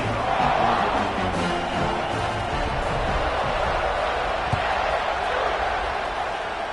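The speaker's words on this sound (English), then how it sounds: "this crowd is buzzing after that last score" A stadium crowd in an American football video game buzzes with a dense, steady roar and murmur, loud and continuous throughout.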